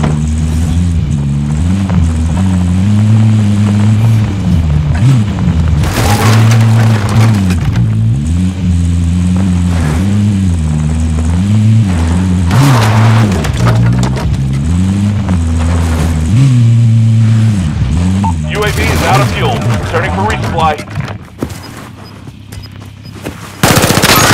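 A car in the Call of Duty: Warzone video game drives along with a steady, loud engine drone that rises and falls as it revs, while bursts of gunfire crackle over it toward the end.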